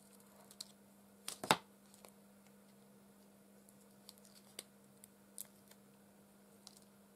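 Scissors cut freshly printed paper for a junk journal page: a quick cluster of close, crisp snips early on, then faint scattered ticks over a quiet room hum.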